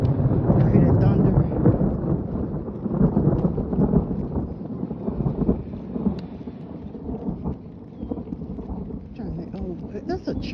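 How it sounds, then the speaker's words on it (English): Thunder rumbles low and continuously through steady rain during an outdoor walk, a dense, heavy wash of sound with wind buffeting the microphone and no clear talk. "I hear that thunder"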